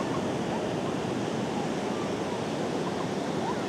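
Sea waves and wind at a Phuket beach under cloudy skies, heard as a steady broadband wash of surf and gusting air with no clear individual breakers, fairly quiet and continuous throughout.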